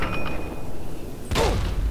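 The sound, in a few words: missile explosion hitting the player, from video game Fallout 3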